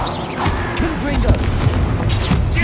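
Fiery Confringo spell blasts in Hogwarts Legacy, a dense run of booming, crackling explosions layered with combat effects, with speech-like voices in the mix throughout.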